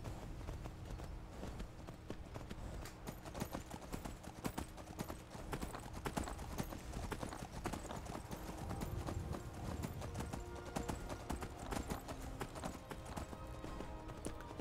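Horse hooves in the Skyrim video game, a steady rapid clip-clop of a galloping mount running continuously throughout, fairly loud and close with no voices.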